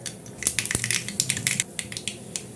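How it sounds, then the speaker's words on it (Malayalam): Mustard seeds splutter and pop in hot coconut oil in a pan, a close, dense run of sharp crackles and snaps. "നമുക്ക് കടുക് ഇട്ട് കൊടുക്കാം."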